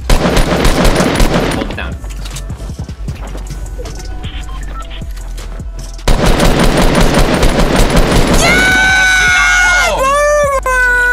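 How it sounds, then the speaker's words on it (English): Rapid automatic gunfire from the Fortnite video game, loud and dense throughout, with a brief lull before the bursts resume, followed by rising electronic game tones at the end, while players talk and shout over it. "Aim at him and just shoot him."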